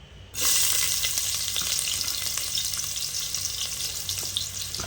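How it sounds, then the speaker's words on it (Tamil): Large onions dropped into hot oil in a cooker, a sudden loud sizzle that bursts in at once and keeps up as a steady, close crackling hiss with no talking. "இப்போ எண்ணெய் நல்லா காஞ்சிருச்சு நம்ம பெரிய வெங்காயத்தை போட்டுக்கலாம்"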